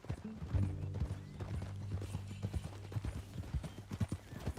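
Horse hooves clip-clopping in Red Dead Redemption 2, a steady walking rhythm of close, dry hoof knocks under a low droning tone, with no talk during it.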